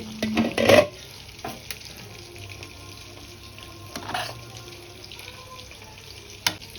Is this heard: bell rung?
no